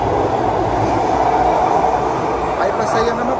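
A Rotterdam metro train runs past in a station, a steady loud rumble of wheels and motors with a faint brake squeal near the end, while people speak over it.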